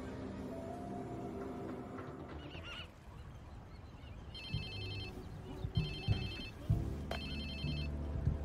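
A cell phone rings in the game Watch Dogs 2, sounding in three repeated bursts of electronic tones over a low music bed.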